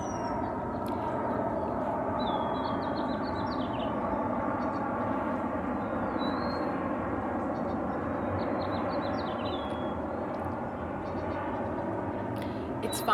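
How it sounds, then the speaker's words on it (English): An airplane flies overhead as a steady, broad, distant roar that holds through the whole stretch, with faint bird chirps above it. "I always get distracted by planes."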